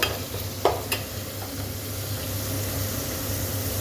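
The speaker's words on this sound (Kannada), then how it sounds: "ಈ ಥರ ಮೆಂತ್ಯ ಸೊಪ್ಪನ್ನು ಒಗ್ಗರಣೆಲೆ ಚೆನ್ನಾಗಿ ಬಾಡಿಸ್ಕೋಬೇಕು" Fenugreek leaves sizzle steadily in hot tempering oil, a continuous close frying hiss with a couple of brief clinks of a spoon against the pan early on.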